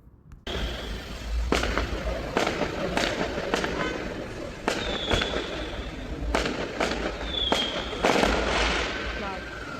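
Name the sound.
Diwali firecrackers and fireworks going off in Little India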